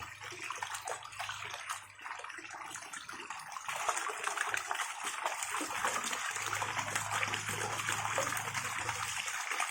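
Water pouring from a SunSun JTP 5800 pump running at maximum, a continuous close rushing and splashing flow that grows slightly stronger partway through.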